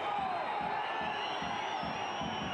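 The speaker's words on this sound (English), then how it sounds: "Crowd want the whistle to go." Football crowd at a Lincoln City home match against Forest Green Rovers in the final moments, a dense continuous roar and whistling from a large stadium audience, steady and fairly loud throughout the short stretch.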